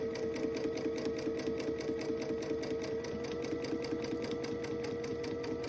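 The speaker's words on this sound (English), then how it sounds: "do a couple stitches, and then you do want to back stitch to lock that in" Sewing machine stitching and back stitching quilt fabric for a Dresden daisy table topper, a close, steady rapid mechanical whir running continuously without pause or talking.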